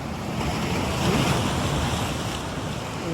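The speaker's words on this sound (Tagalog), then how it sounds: "Kahit anong lalaki ng alon to." Sea waves wash and crash continuously against a rocky shore by Diversion Road, Iligan City, a loud broadband roar with some wind noise across the microphone.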